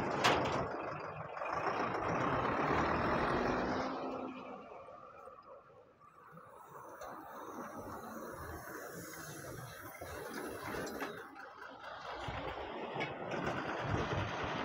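Trucks labour along the Padve ghat mountain road, their engines a steady, fairly loud roar. The noise eases briefly midway and then builds again, with faint talk in the background.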